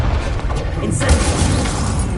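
Incendio fire spell cast in Hogwarts Legacy, a loud rumbling whoosh and boom in the thick of a duel, heavy low-end roar with a burst near the middle and a voice over it.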